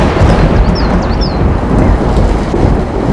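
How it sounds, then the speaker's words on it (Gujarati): A loud thunderstorm breaks over a forest, with dense heavy rain roaring steadily and rumbling thunder beneath, a few faint bird calls cutting through briefly. "અચાનક વાદળોની ભયાનક ગરજના સાથે જંગલ પર મેઘરાજ તૂટી પડ્યા."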